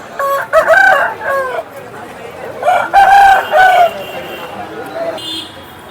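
A rooster crows twice at a busy rooster market in Vijayawada, each crow a loud, drawn-out call of several segments, with crowd chatter and voices running underneath throughout.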